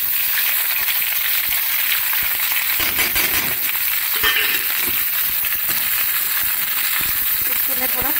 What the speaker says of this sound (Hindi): इसको मैं थोड़ा फ्राई करूंगी।